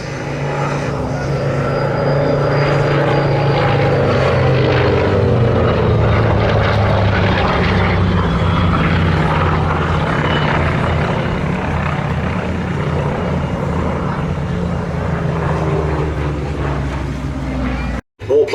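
Propeller warplanes, including a Spitfire Mk1, Hurricane Mk1, Curtiss Hawk 75 and Grumman FM-2 Wildcat, drone overhead in formation with a steady, throbbing engine roar that stays loud throughout, ending abruptly.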